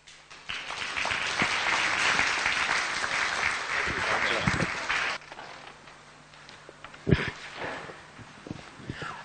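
An audience at a community forum applauds the council and panel of speakers, dense clapping filling the room for about five seconds before thinning into scattered claps and a few louder individual hand strikes.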